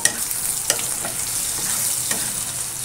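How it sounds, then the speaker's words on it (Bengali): Dried chili, cardamom, cinnamon and cloves sizzle in hot oil as a tempering, a steady crackling hiss with a few sharper pops and a stir partway through. "ফোড়ন দিয়েছি, একটা শুকনো লঙ্কা, 4টে এলাচ, দারচিনি আর লবঙ্গ।"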